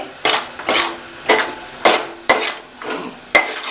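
Cashews and garam masala being stirred into a pot of pulao made with milk and curd, a spoon scraping in regular strokes about every half second with a soft sizzle beneath, close and clear with no talking.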